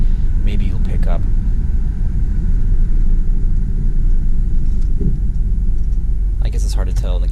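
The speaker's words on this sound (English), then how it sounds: "So here I give a little acceleration, and then at this light I come to a fairly rapid stop just to show you how the brakes work" A 2004 Dodge Dakota LST Club Cab with about 117k miles gives a steady, loud engine and road rumble as it accelerates and then brakes hard to a stop, with a faint brake pulsation. A voice talks briefly near the start and again near the end.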